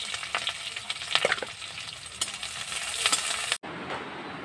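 A vegetable bhaji fries in a home kitchen pan, with a steady crackling sizzle, scattered sharp pops and occasional stirring clinks, close and fairly loud before cutting off abruptly near the end.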